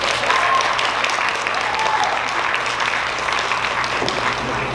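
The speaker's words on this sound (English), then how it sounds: "Please, another round of applause." A crowd at a college Chinese dinner event applauds a performance. The clapping is loud, steady and close, and it holds for the whole stretch without easing off.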